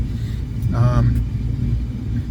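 A Mercury Cougar's exhaust gives a low, steady rumble at close range, swelling briefly near the middle, while someone talks over it.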